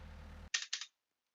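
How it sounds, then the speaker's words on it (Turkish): Two quick keyboard key presses click sharply and close up in a quiet room, right after a low steady hum cuts out. "bakın basıyorum klavye sesi bile geliyor"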